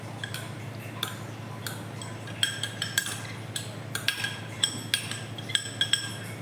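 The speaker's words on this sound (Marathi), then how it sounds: "आता हे मिक्स करून घेऊयात आपण." A spoon mixes soaked poha into uttapam batter in a bowl, giving faint scattered clinks and taps that grow more frequent toward the end over quiet room noise.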